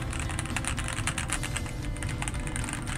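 Steady, fast typing on a 65% mechanical keyboard with thin keycaps over silicone and Tempest tape dampening, giving a continuous clatter of close-up key presses with no talking.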